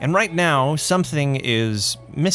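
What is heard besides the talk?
No everyday noise stands out behind the speech.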